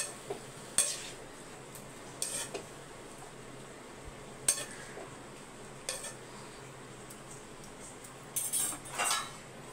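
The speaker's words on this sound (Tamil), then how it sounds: "கொஞ்சம் தண்ணி ஊற்றி மிக்ஸ் பண்ணி விடலாம்." A spoon stirs broad beans with grated coconut and a splash of water in a pan, giving sparse scraping clinks and a few louder clatters over a faint, steady background.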